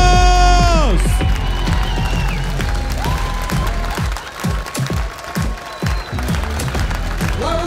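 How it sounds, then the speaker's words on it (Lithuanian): An audience at a live talk show in Kaunas applauds and cheers to welcome Mantas Stonkus, with loud sustained clapping and crowd noise after a brief opening musical sting. "atsistojam ir plojimai sutinkam"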